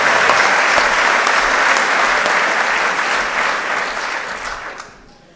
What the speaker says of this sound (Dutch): Welgemeend applaus, dames en heren.